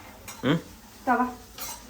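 A metal tawa griddle clanks onto a stove in three short metallic knocks and rings, close and distinct.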